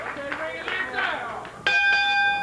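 Wrestling ring bell struck to start a match, a single sharp ding with a long ringing tail, heard after commentators' voices over crowd noise.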